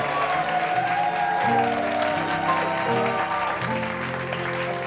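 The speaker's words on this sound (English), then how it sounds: "ladies and gentlemen, let's give them a nice big round of applause here today for this wonderful tradition." Wedding guests applaud steadily and loudly throughout, with festive music playing underneath the dense clapping.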